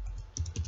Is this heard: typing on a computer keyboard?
yes